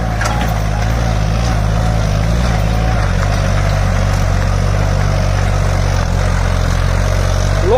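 A Farmtrac 60 PowerMax tractor fitted with a turbo runs steadily in third gear under load, a loud, continuous low engine drone with no break, heard close up and alone.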